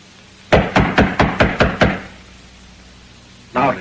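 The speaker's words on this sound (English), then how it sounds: "I think I ought to knock louder." Loud knocking on a door: a quick run of seven sharp, evenly paced raps, then a pause and one more knock, close and solid.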